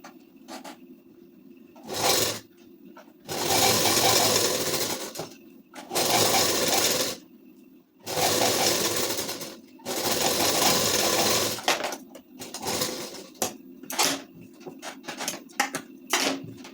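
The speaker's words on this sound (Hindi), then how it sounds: "ऐसे सेट करके और दूसरी आस्तीन में भी सिलाई चलाएंगे।" A sewing machine runs in bursts of stitching along the sleeve of a ladies' suit, loud motor whirring in several runs separated by short pauses with light handling clatter, no talk.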